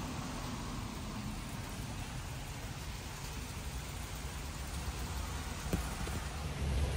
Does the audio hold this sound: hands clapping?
no